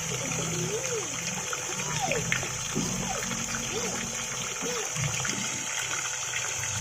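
A mini submersible 12-volt DC pump pushes tap water in a continuous splashing gush with a faint steady hum, and soft voice-like sounds sit in the background.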